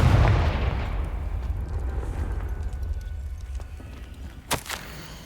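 The Confringo spell bursts in Hogwarts Legacy, a deep boom at the start fading into a low rumble, followed near the end by a sharp, brief crack.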